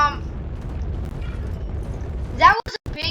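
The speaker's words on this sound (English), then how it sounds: "that was a big explosion." A big explosion in the video game Astroneer, played in survival mode, heard as a sustained low rumbling roar for a couple of seconds before a voice briefly speaks over it.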